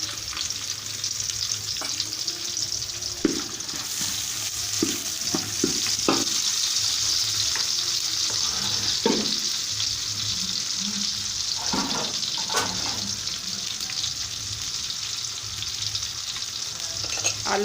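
Onions frying in ghee for aloo gobi, a steady close sizzle with occasional stirring clicks and scrapes of a spoon against the pan.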